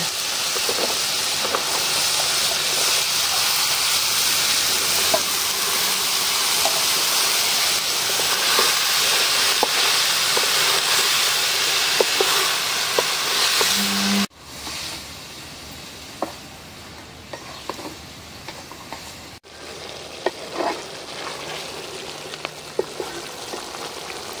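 Potatoes and bottle gourd hit a pan of fried spices and give a steady, hissing sizzle. It turns noticeably quieter partway through, with occasional faint clinks over the constant frying.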